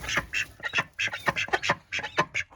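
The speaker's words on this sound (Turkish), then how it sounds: "Bunlar yaban ördeği arkadaşlar." Wild ducks quack in a rapid, irregular run of loud, close calls, a dozen or more harsh honks overlapping in quick bursts with no talking.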